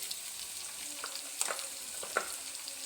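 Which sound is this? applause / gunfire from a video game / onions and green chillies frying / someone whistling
onions and green chillies frying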